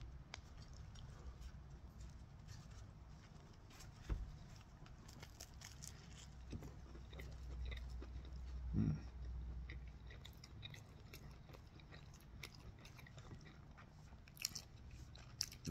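Someone eating a cheesy cheeseburger with ketchup on a bun, faint close-up chewing and soft bites at irregular intervals, quiet with no talking.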